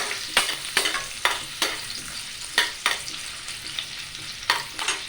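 Onions frying in a kadai for semiya upma, a steady close sizzle broken by about eight sharp scraping strokes of a spoon spaced irregularly through the clip, with no voices.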